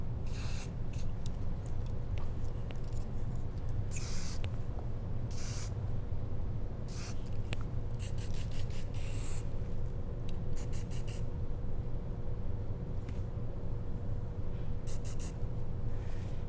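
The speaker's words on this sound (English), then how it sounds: "So I'm gonna give that a nice spray" Flexible hairspray is sprayed onto styled hair in several short hissing bursts, some clustered in quick succession, over a constant low background hum.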